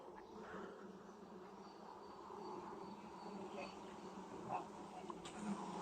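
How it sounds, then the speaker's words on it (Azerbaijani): Honeybees hum around a hive in the early morning, a continuous faint drone with individual bees passing close now and then, and a voice murmuring faintly underneath. "Arılar bir qədər aqressiv ola bilərlər."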